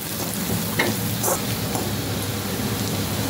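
Asafoetida with dry spices, salt, turmeric, chilli and coriander powder sizzles steadily in a hot pan for cabbage sabzi, a close, continuous frying hiss with a few light stirring scrapes.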